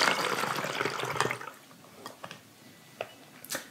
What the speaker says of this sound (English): I'm gonna put in a half a cup of water.